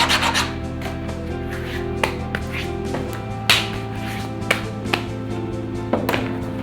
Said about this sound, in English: We are filing the back where you made your marking.